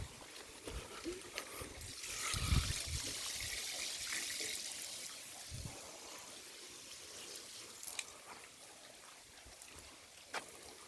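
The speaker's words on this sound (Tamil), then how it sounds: "சொட்டு நீர் மூலமாக வந்து தோட்டத்துக்கு தண்ணி பாய்ச்சிக்கிறாங்க" Drip irrigation water trickles softly through a coconut grove, a faint, uneven run of small splashes and gurgles with a few louder knocks and a brief swell of flowing water.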